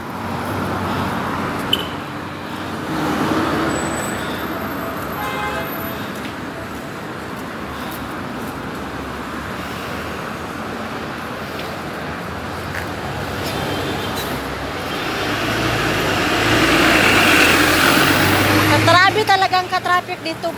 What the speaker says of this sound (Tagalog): Traffic dito guys, ito na highway na to.